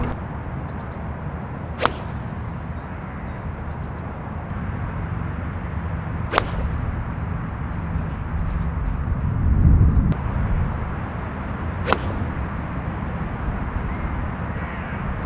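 Golf club swings striking balls on an old course driving area, three sharp isolated cracks spaced several seconds apart over a steady outdoor wind-like rumble.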